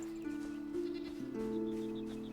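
A goat in a survival video game bleats several times in wavering, nasal calls, close and clear, with faint game ambience beneath and no talking.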